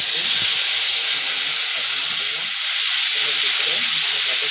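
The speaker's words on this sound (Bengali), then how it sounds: "মাছ ভাজার পরে যে তেল, এই তেলের ভিতর মশলাগুলি দিয়ে দিব আমি।" Ginger, garlic, onion, cumin, coriander and dried chillies hit hot oil left over from frying fish, producing a loud, steady hiss and sizzle that stays close and continuous throughout.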